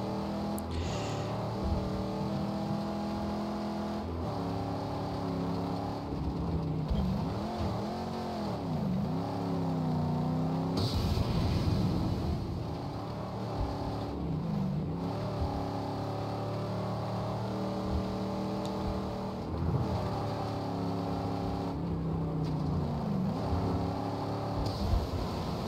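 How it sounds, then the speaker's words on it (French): A fast car in the Mad Max video game, its engine droning loud and steady and revving up and down in repeated swoops as it speeds along. "On a une voiture qui va vite."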